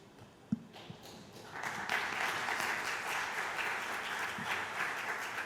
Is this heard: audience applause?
yes